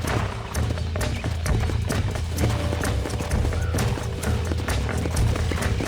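Horse hooves galloping in the Red Dead Redemption video game, a rapid, steady clip-clop of several horses over a constant rumbling bed, loud and continuous throughout.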